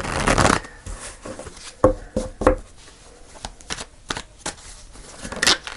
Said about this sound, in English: Let's pull the tarot cards and see what we have.